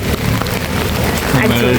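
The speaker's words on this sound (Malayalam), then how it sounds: "മഴ വന്ന സമയം തൊട്ട് ഭയങ്കര മഴ" Heavy rain pours steadily at Manipal University while people walk under umbrellas, a dense continuous hiss of drops on surfaces close by with no letup through the short stretch.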